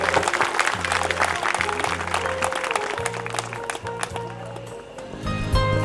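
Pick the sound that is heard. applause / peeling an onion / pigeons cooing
applause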